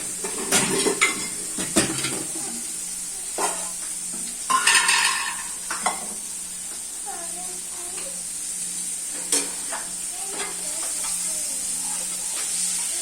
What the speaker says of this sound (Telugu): అలా ఫిష్ ఫ్రై చేసుకోవాలి.